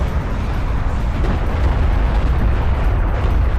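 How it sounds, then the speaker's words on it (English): Barrage explosions in the real-time strategy game Homeworld: Deserts of Kharak, a loud, dense, continuous roar of overlapping blasts and deep booms with no gaps. "These barrages are going to do massive damage."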